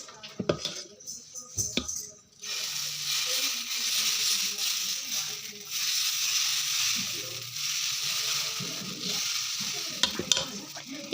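Carrot dosa batter hits a hot pan and sizzles in a steady, close hiss that runs for several seconds. Scraping and clinking utensil sounds come at the start and end.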